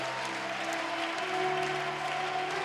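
A church congregation applauds the Lord during a worship service, steady clapping from many hands at moderate volume without pause, with faint voices and a sustained tone underneath.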